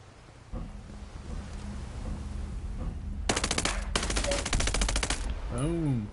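Unsuppressed gunfire in the video game Ghost Recon Breakpoint, loud rapid automatic bursts in two quick strings over rumbling game ambience, followed by a short warbling electronic tone.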